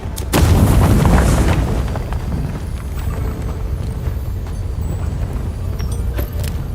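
A grenade blast in the Avowed video game bursts loudly near the start, then rumbles and fades into a low, noisy tail, with no talking.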